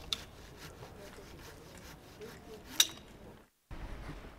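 Hand saw rasping through branches during manual pruning work with saw and pruning shears, faint repeated back-and-forth scraping strokes outdoors with a sharp snip, then a brief silence.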